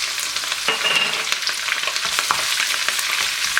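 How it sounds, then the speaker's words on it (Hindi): Cumin seeds and green chillies hit hot oil for a tempering, giving a bright, crackling sizzle that runs steadily and close with scattered pops and one short scrape of a spoon, no voices. "इसमें आप ऐड करेंगे ज़ीरा, साथ ही चंद हरी मिर्चें डालेंगे"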